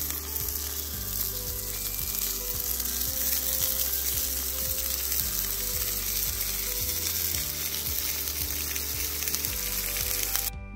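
Bacon-infused smash burgers sizzle steadily on a hot griddle, a loud continuous crackling hiss with a low rhythmic ticking underneath, close up and without talk.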